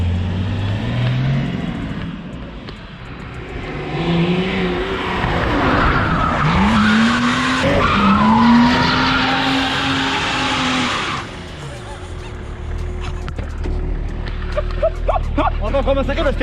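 Car tires spin and squeal on pavement, loud and close, as the engine revs hard through a gear change and the rising roar fades out. A voice can be heard partway through.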